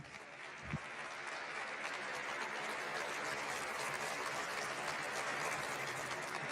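Steady audience applause filling a conference hall, a dense even patter of many hands clapping at moderate volume throughout.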